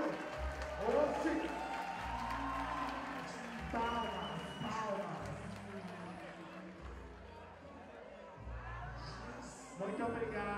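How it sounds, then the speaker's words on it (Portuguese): Crowd applause and cheering at a ballroom event in Brazil, a dense continuous wash of clapping with shouts, under a loud announcer's voice and a thumping bass-heavy beat throughout. "uma salva de palmas"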